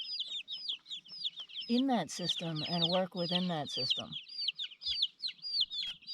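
Small backyard chickens cluck and chirp in a quick, steady stream of short calls close by, continuing under and around a voice as he talks.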